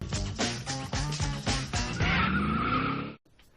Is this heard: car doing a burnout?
yes